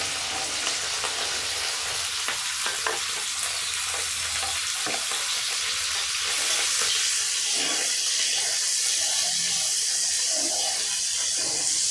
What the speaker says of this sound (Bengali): তেল গরম হয়ে গেছে, ছোট ছোট করে কেটে রাখা চিকেন টুকরাগুলোকে আমি তেলের উপর দিয়ে দিলাম।